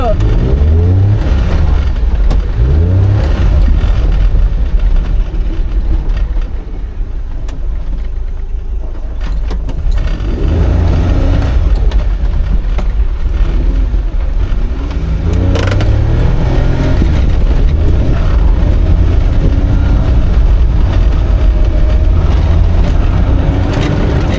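Maruti 800 car engine runs steadily with revving rises, loud and close, while people talk over it for much of the stretch.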